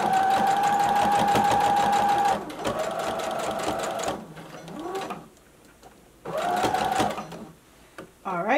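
A sewing machine stitches a gathered ruffle tier onto a dress or skirt, its motor whirring in loud, close bursts that stop and restart with short pauses between runs.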